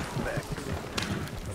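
Horse galloping in Red Dead Redemption II during a caravan attack, quick rhythmic hoofbeats close by with a voice talking over them.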